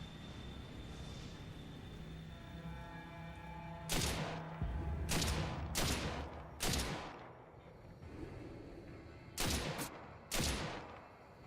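Rifle shots from a VR shooter game ring out in sharp bursts, a single crack followed by a few tight volleys spaced over several seconds, standing out loudly against a low steady background hum.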